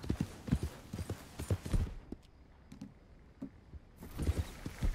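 Horse hooves clip-clop steadily in the Red Dead Redemption 2 video game, a quick, even trot of close, crisp hoofbeats that drops to a near-silent pause for two seconds before the rhythm picks up again.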